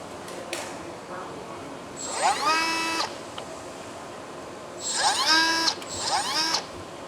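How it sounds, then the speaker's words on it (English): A power drill boring into a carbon fiber part in two bursts: a short one and then a longer run, each rising in pitch as it spins up, with quiet pauses and faint handling noise between. "I'll stamp the carbon out, drill it, have it somewhat solid"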